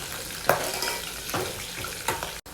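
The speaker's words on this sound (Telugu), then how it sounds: "నెక్స్ట్ ఇవన్నీ కూడా గోల్డ్ కలర్ వచ్చేంత వరకు ఫ్రై చేసుకోవాలండి." Onion, curry leaves and red chilli fry in a tempering, a soft steady sizzle broken by a few scraping stirs of a spoon in the pan, heard close and fairly quiet.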